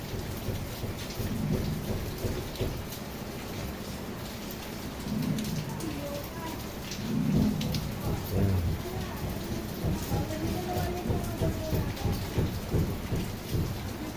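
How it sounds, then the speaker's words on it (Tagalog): Steady heavy rain hisses throughout, with low rumbles of thunder rolling in and out beneath the downpour. "umuulan pa rin walang tigil ang ulan"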